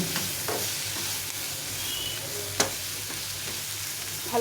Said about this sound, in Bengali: ভালো করে নেড়ে নেড়ে ভেজে নিতে হবে।